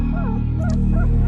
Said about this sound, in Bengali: কুকুরটা ডাকছে, পরিত্রাহী চিৎকার।